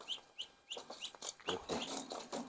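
Repeated high, short peeping calls of chicks less than a month old, several birds chirping in quick irregular bursts, close by.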